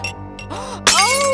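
In a video game, a dropped glass shatters with a sudden loud crash and tinkling fragments, following brief vocal sounds and continuing under a rising voice.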